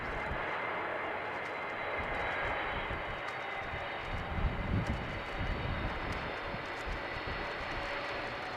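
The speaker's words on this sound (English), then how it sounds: "First up, the Pegasus A321neo inbound from Istanbul." A Pegasus Airbus A321neo airliner inbound from Istanbul arrives at Amsterdam Schiphol on a windy day, its engines a steady, fairly distant roar mixed with wind rumble that holds even throughout.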